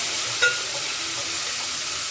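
Onions are added to a pan of oil with browned cashews and green chillies, giving a steady close sizzle with a faint clink at the start.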